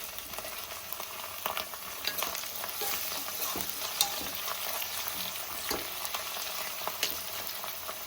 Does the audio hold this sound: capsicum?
yes